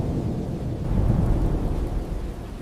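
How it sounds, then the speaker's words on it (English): Low, rumbling thunder rolls through a night storm with rain, a continuous deep swell that peaks midway and fades slightly, with no voices. "That sound is only the thunder"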